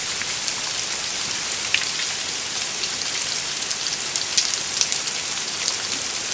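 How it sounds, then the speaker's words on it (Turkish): Heavy hail pours down steadily on a mountain hunting trip, a dense, unbroken hiss of pelting ice close by with scattered sharper hits throughout and no voices. "Acayip dolu yağıyor."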